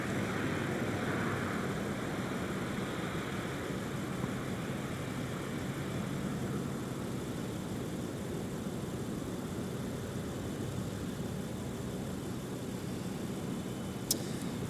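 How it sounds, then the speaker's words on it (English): Delta airliner taxiing along a taxiway toward the runway 17 threshold for departure at a snowy Minneapolis airport, a steady broadband jet engine roar held at constant level, moderately distant, with no talk. "Delta 2125 hustling on taxiway whiskey to the threshold of 17 for departure"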